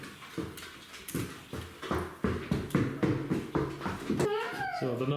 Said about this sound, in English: the noise in the background is just baby Adina and the dogs